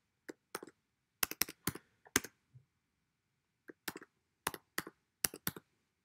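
Mouse clicks and keyboard keystrokes on a computer running 3D modeling software come in quick separate bursts, sharp close taps in clusters of two and three with short silent gaps between.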